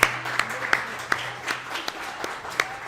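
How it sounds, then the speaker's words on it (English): A small audience gives light, scattered clapping for a girls flag football team, the individual claps distinct and fairly quiet over a low background hum. "I think we should clap it up for the girls one more time."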